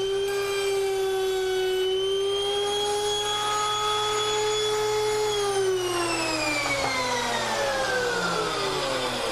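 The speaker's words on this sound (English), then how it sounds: "Both of my boards get this through rabbet cut at this first depth setting." A hand router cutting a through rabbet in a board gives a steady high-pitched motor whine throughout, close and loud, then its pitch slides gradually downward toward the end.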